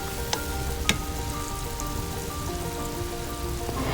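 Tomato macaroni pasta sauce with chopped carrots simmers in a pan over medium-high heat, giving a steady close crackle and sizzle with a few faint clicks and no talk.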